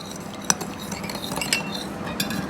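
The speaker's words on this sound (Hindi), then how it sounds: "इन सारी चीज़ों की अच्छी सी मिक्सिंग कर लेते हैं।" Spoon stirring a shawarma filling seasoned with lemon juice and salt in a bowl, soft scraping broken by a few sharp clinks of metal against the dish, close and quiet.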